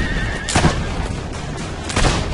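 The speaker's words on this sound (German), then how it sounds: "Irgendwie scheine ich mehr nur die Pferde zu erschießen als die Reiter." A horse in Assassin's Creed Brotherhood neighs loudly after being shot, one sharp whinny near the start and a second burst near the end, set against steady background noise.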